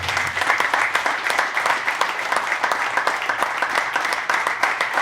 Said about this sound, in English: Round of applause for the parents.